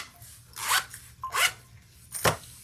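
A zipper on the small zipper pocket of a sewn fabric bucket bag is pulled three times, each pull a quick close rasp with brief pauses between.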